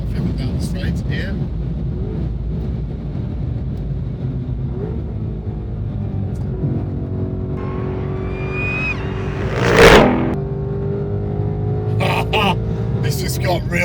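A Ford Mustang GTD, a street-legal track car, accelerates hard down a racetrack straight, its engine a sustained roar climbing in pitch through the gears and swelling to a loud peak before settling.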